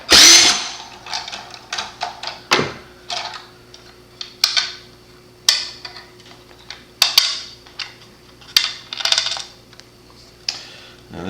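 Screws being removed from an Eheim Pro 2 2028 canister filter: a loud, steady series of sharp clicks and metallic ticks with brief scraping, repeating irregularly over a low mechanical hum, no talking.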